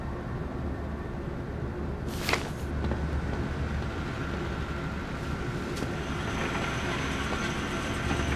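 Train and trolley cars roll past in the zoo horror game Zoochosis, a steady low rumble with faint rail clatter filling the whole stretch, a couple of sharper metallic squeals near the middle, no voices.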